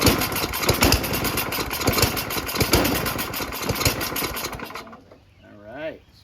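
A Tecumseh 9HP engine on a Noma Murray Snow King 27-inch two-stage snowblower starts and runs with a steady, loud mechanical drone. It cuts off at about five seconds, and a brief voice follows.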